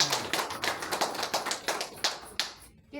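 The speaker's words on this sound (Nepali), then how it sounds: "ताली बजाउनु" A small audience at a church ordination service clapping in a quick, fairly even rhythm of distinct hand claps, close and moderately loud, stopping near the end.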